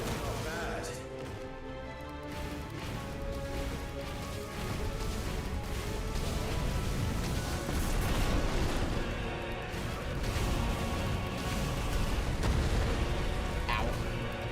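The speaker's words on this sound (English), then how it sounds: "Hold and release Q to emit a violent explosion." Violent explosion ability unleashed in Final Fantasy XVI, heavy booming blasts and crashing impacts rolling over a dense, loud game soundtrack for the full length.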